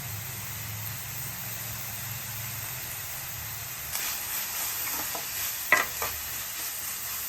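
A shark puttu mixture sizzles while being sautéed in a pan, a steady frying hiss with a few scraping stirs of the spatula toward the end.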